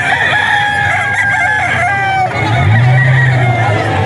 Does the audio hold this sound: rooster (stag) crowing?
yes